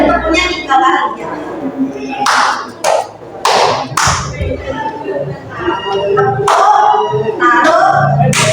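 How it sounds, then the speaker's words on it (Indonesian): A classroom group of students claps in rhythm during an arts lesson, several sharp bursts of hand claps ringing out between a teacher's spoken instructions and children's chatter. "Kelompok 3 berarti tepuknya 3 kali ya."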